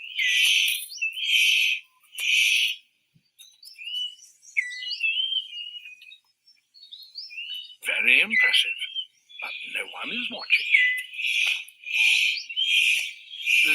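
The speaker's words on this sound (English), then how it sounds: "The superb bird of paradise calls to attract the female." A superb bird of paradise calls to attract a female, repeated buzzy, rasping bursts in short rhythmic groups, fairly near, broken up by a person speaking in between.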